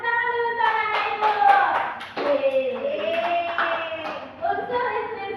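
Schoolchildren in an elementary school classroom clap their hands together, a sustained patter of many small hands that runs under a teacher's voice throughout.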